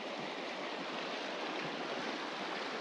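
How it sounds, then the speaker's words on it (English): Creek water flows steadily along the Appalachian Trail in a cold, wet setting, a faint continuous rushing wash with no breaks and no voices. "The creek. This is where I will be filtering my water from."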